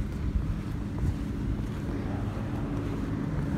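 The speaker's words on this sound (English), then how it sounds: "It's windy out today." Steady gusting wind at an outdoor car dealership buffets the microphone with a low rumbling roar that stays constant throughout.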